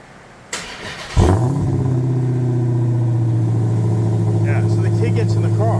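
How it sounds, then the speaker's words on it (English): A Dodge car engine cranks and catches, then settles into a loud, steady close-up rumble with a slight rev, a faint voice briefly heard near the end. "let's listen to the Dodge"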